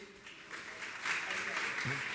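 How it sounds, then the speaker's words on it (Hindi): An audience at a discourse breaks into clapping that swells into steady, dense applause, with a voice speaking over it. "एक बार जोरदार ताली बजाते हुए"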